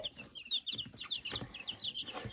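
One-week-old chicks cheep in rapid, high, repeated peeps, close and fairly faint, with soft shuffling underneath.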